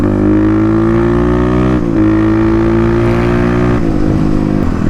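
Harley-Davidson motorcycle, a Street Rod 750, revving close and loud through its gears with stepped engine drops at each downshift, then pulling hard again, the steady exhaust drone continuous throughout.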